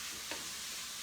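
Cauliflower frying in a pan is stirred continuously, giving a soft, steady sizzle with faint scraping and one brief louder scrape, no voices over it.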